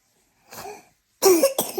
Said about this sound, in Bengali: এই যে কাশি